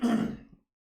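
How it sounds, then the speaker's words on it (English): A man clears his throat once, a brief, close, breathy rasp that fades out within about half a second, followed by silence. "Let me just clear my throat."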